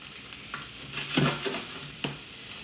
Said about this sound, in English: I'm gonna give my peppers over here a quick stir.